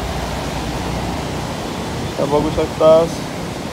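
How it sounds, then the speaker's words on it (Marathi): Rough sea waves make a continuous, loud, hissing roar throughout, and a person speaks briefly near the end over the surf. "समुद्र खवाललाय"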